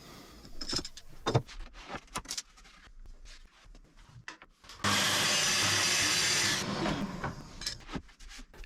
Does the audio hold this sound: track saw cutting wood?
yes